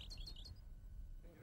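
A goldfinch gives a brief burst of high, quick chirping twitters at the very start, fairly faint over a low rumbling background, then falls silent.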